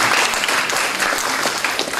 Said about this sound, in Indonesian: Nah kalau yang itu tepuk tangannya kurang kuat,